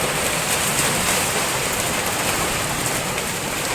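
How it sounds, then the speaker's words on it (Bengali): Heavy rain with big drops pours steadily and close, a dense, even hiss of drops striking the surfaces around, with no voices. "এবছর মনে হচ্ছে বৃষ্টি ছাড়াবে না। দেখো কেমন বৃষ্টি হচ্ছে"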